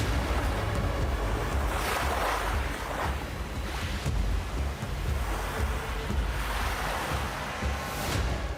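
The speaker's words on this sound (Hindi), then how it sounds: "लहरें अचानक से तेज हो गईं।" Sea waves slap and surge against a small boat approaching an island, a loud continuous wash of water and wind with heavier swells rolling in every couple of seconds.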